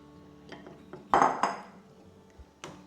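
Chopped spinach going into a pot of cooking food, with a few sharp clinks and knocks of a utensil against the pot, then quieter stirring sounds.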